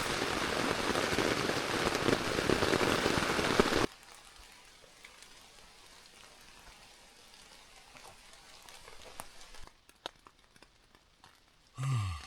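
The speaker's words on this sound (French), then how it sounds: "Depuis des heures et des heures et des heures qu'il pleut extrêmement fort." Heavy rain drums in a dense, loud hiss for the first few seconds, then gives way to a much quieter background with scattered drips and soft knocks, and a brief loud burst at the very end.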